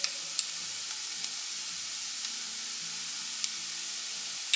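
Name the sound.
garlic ginger paste sizzling in hot oil with onions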